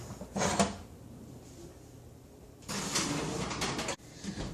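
Kitchen oven clatter as a keto chicken cacciatore dish goes in: a short rattle, a pause, then a longer scraping slide and a closing thunk, all near and fairly quiet.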